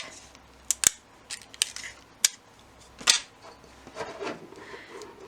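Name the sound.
tearing off a piece of tape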